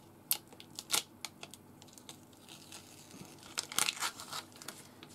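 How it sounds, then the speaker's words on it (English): Sticky paper is peeled off a plastic planter in short crackling, tearing bursts, close and fairly quiet, with brief pauses between pulls. "So now I can start peeling it off."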